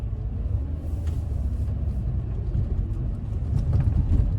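A car pulls away from a stop sign on the road, its engine a steady low rumble that builds slightly toward the end, heard from inside the cabin with no talking.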